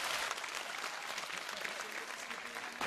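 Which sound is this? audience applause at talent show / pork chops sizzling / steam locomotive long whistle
audience applause at talent show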